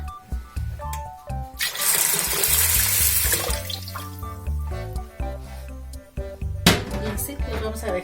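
Tap water rushes into a container of dry beans to soak them, a steady pour lasting under two seconds, with another brief splash later, over background music.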